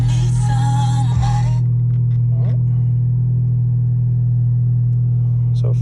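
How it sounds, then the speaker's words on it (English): Audi RS3 engine on new APR ignition coils and plugs, starting up with a brief cranking burst before settling into a steady, loud low idle drone that runs to the end. "First startup on the new plugs and coils."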